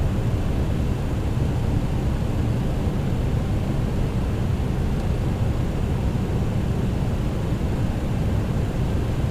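MD-11 jet engines spool up as the throttles are advanced in a TFDI flight simulator cockpit, a steady, loud broadband roar with deep low rumble that holds constant and continuous throughout, with no voices.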